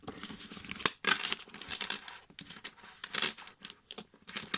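A small deck of oracle color cards is shuffled by hand, giving a quick run of crisp, papery riffles and flicks up close, irregular in rhythm and without talk.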